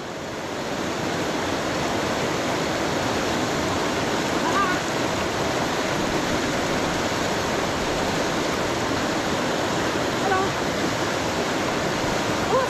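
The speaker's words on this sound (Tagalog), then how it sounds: "Malakas yung alon eh." Loud, steady rush of turbulent water fills the whole clip, a dense continuous roar like a strong river current close by, with no pauses; a fast stream at Batis Bangkuro, Nagcarlan, Laguna.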